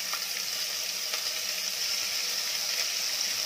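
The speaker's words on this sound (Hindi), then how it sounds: "आप भूनते वक्त थोड़ा पानी भी डाल सकते हैं ताकि जिंजर गार्लिक पेस्ट जो अदरक लहसुन का पेस्ट है अच्छे से भून जाए।" Ginger garlic paste fries in a pan with a steady, close sizzling hiss that holds even throughout, with no talking.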